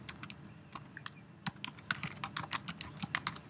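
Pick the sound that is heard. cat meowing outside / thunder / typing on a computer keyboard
typing on a computer keyboard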